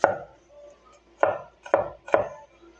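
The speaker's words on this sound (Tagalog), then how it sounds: "mag-slice na ako guys ng sibuyas din at bawang" Onions and garlic sliced with a knife on a cutting board while preparing lumpiang Shanghai: four crisp, close chopping knocks in an uneven rhythm, with quiet pauses between them.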